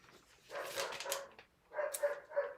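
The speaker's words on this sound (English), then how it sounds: "the dogs are just going ballistic" Dogs barking indoors in excited, overlapping bursts, two loud clusters of yaps and barks separated by a brief pause, fairly close and with no talk over them.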